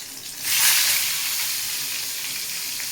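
Eggplant slices go into hot oil and set off a loud, bright sizzle that swells quickly, then holds as a steady frying hiss.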